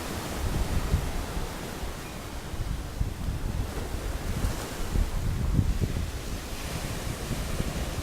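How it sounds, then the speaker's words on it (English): Pacific Ocean surf rolls in as a steady, broad wash of noise with gentle swells and wind buffeting the microphone, no voices present. "Great Pacific Ocean, far as the eyes can see"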